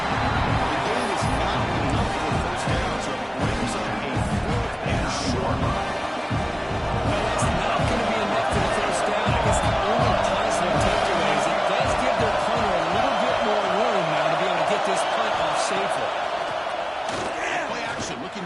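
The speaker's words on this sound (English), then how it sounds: "Listen to this crowd noise. This stadium is vibrating." Stadium crowd noise roars in College Football 26 during a Syracuse versus Ohio State game, a dense, loud, continuous rumble of cheering under steady commentary talk throughout.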